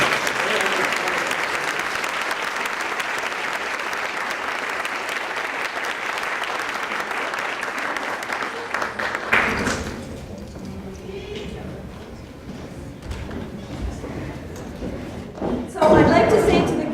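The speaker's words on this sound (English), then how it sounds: "So please give them all a big round of applause." Audience applause at a screening presentation for a textile guild, steady and full for about nine seconds, then tapering into scattered claps, murmurs and thumps.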